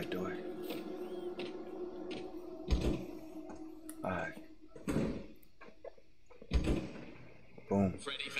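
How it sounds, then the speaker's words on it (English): A door opening in the Five Nights at Freddy's Security Breach pizzaplex, with several distinct thuds and clunks spaced across the clip under steady speech. "I think I gotta go through that door."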